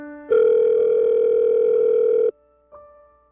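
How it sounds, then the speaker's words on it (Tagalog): A telephone call rings through, giving a loud steady electronic tone held for about two seconds, then a brief fainter tone after a short gap, with no voices. "sagutin mo na yung tawag ko."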